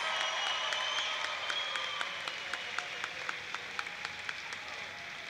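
An audience at the FIRST Robotics Competition Orlando Regional 2014 applauds steadily from a distance, a soft wash of many hands with individual claps standing out in a loose rhythm and slowly easing off.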